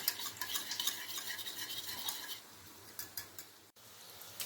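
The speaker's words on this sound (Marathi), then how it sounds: "छान मिक्स करून घ्यायचं आपल्याला." Quiet scraping and clinking of a spoon stirring curd thinned with water in a pan, repeated strokes with a brief pause near the end.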